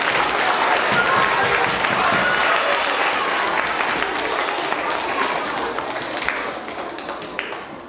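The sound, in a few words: applause for student presenters at school assembly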